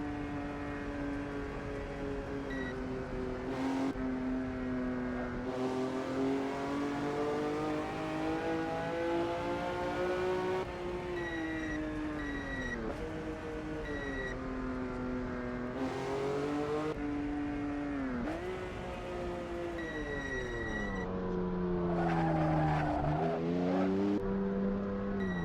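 In the Assetto Corsa racing game, a race car engine drones steadily on the Pescara circuit. The pitch rises and falls as it accelerates, shifts gears and slows for corners, and it sounds close and continuous throughout.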